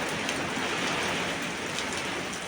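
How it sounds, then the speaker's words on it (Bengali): Heavy rain pours down with strong wind outdoors, a dense, loud, unbroken hiss with no voices. "দেখো বৃষ্টি পড়ছে, কত জোরে হাওয়া হচ্ছে"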